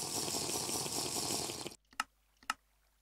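Water bottle being filled in Minecraft, a steady rushing pour lasting under two seconds, then cutting off to near silence with two brief soft clicks.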